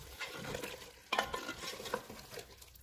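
Red chilli powder, salt and whisked yogurt get stirred into chicken curry in a pressure cooker, a spoon scraping and clinking near the pot over a soft sizzle, with one sharper knock in the middle.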